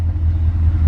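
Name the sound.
BMW M5 Competition AC Schnitzer ACS5 engine starting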